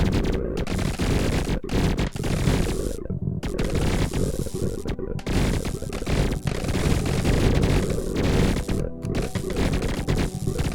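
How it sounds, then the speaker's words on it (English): Rapid, overlapping bursts of explosions from the incremental video game Nodebuster, dense and loud throughout with brief gaps, forming a continuous chaotic barrage. "That's a lot of explosions."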